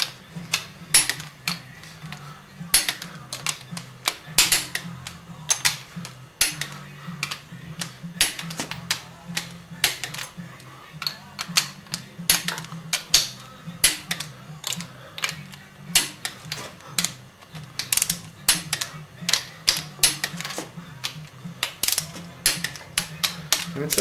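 A torque wrench clicks repeatedly while tightening cylinder head bolts on a small-block Chevy 350 engine rebuild, sharp close metallic clicks in irregular bursts over a low hum.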